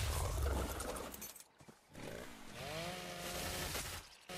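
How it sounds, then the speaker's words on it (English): A chainsaw revs and roars while harvesting in the video game ARK: Valguero, a loud buzzing drone that dips briefly and then climbs back in pitch and holds steady. "I need to use a chainsaw to harvest them."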